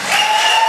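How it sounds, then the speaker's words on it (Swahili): A brief burst of crowd applause, dense and continuous, loud and close, with a faint steady tone underneath. "Kwa kuwapigia makofi mazuri."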